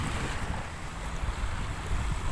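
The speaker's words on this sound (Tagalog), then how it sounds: "Ayan yung mga pang-dredging nila ngayon." Dredging boats work out on the waters of Manila Bay, a distant low rumble blended into steady wind buffeting and lapping water, continuous and fairly loud with no talk.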